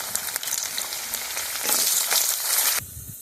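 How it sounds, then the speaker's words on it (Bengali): Potatoes and carrots sizzle together in hot oil in a pan while cooking shukto, a steady close crackling hiss that swells slightly midway and drops away abruptly near the end. "আলু আর গাজর একসঙ্গে ভেজে নিচ্ছি"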